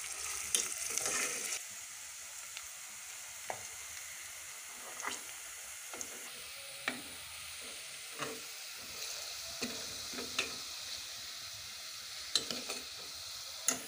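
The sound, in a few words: frying onions until light brown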